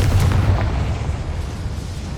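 Confringo blasting spell exploding in Hogwarts Legacy, a loud, deep boom with a rumbling tail that slowly fades over about two seconds, no voices.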